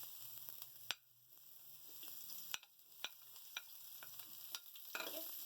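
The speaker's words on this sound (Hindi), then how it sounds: "अब इसके अंदर हम डालेंगे सबसे पहले हमारी प्याज।" Sliced onions frying in oil in a pan for chicken chilli give a soft, steady sizzle, broken by sharp stirring clicks and scrapes at uneven intervals.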